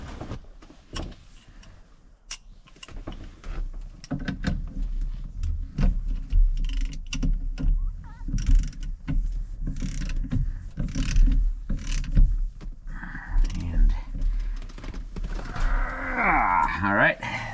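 A ratchet wrench with a 27 mm socket tightens a bolt on a 1961 VW Beetle, giving bursts of rapid clicking pawl ticks and metallic clanks nearby, with someone talking and some squeaky mechanical noise near the end.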